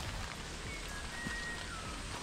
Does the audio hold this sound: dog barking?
no